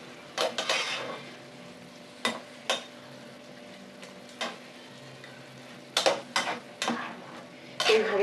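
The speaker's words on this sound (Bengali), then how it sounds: "ভালো করে নেড়ে দিতে হবে।" Small tangra fish fry in oil in a pan under a faint background sizzle, while a spatula scrapes and clinks against the metal in repeated short bursts, fairly close and moderately loud.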